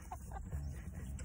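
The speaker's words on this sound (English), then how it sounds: "do you ever seen chickens and a rooster?" Chickens and a rooster cluck softly nearby on a golf course in Clermont, Florida, short throaty calls over a steady low outdoor rumble.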